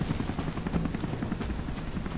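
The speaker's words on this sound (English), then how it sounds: "Is that a chopper right here?" A helicopter in the video game Rise of the Tomb Raider chops with a steady, fast low rotor thump, moderately loud and continuous through the short stretch with no talk.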